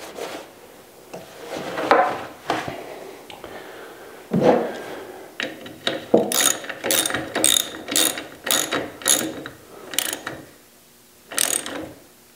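A ratchet wrench clicks as it tightens a 10 mm bolt on a Makita air compressor, sounding close and loud in repeated bursts of rapid ratcheting with short pauses between strokes.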